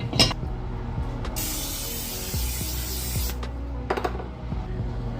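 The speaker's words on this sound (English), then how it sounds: "we're going to take a baking dish and we're going to spray it." A single steady hiss of cooking spray into a baking dish lasts about two seconds, close by, framed by light clicks and clinks of handling.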